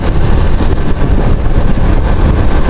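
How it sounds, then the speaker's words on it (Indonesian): Big motorcycles on a Jakarta-area street produce a loud, steady low roar of engines, continuous and close with no pauses or talk. "tadi ada dengar suara gemuruh motor-motor besar"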